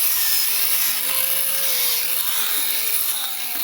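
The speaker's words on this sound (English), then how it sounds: "I think I want to drill a hole at first." A power drill bores a 6 mm hole during a power supply build for a TRS-80 Model 1, giving a loud, steady whirring grind with a faint shifting whine that runs unbroken throughout.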